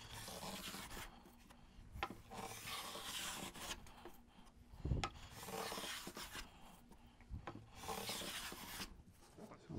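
Hand plane shaving a wooden board, a beginner's steady planing with repeated rasping strokes of varied length, close and fairly loud, one stronger stroke near the middle.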